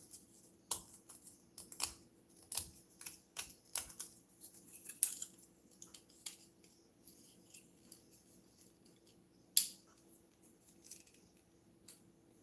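Plastic parts of a Revell Visible V-8 engine model kit being trimmed: a run of crisp, close snips and clicks in an irregular rhythm, busiest early on, then sparse ticks in a quiet room without talk.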